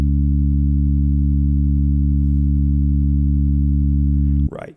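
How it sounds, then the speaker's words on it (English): A synthesized sawtooth drone built from four harmonics, two octaves below middle C, holds a static, buzzy low tone for over four seconds and then cuts off abruptly, followed by a brief breath. "a sawtooth waveform with 4 harmonics,"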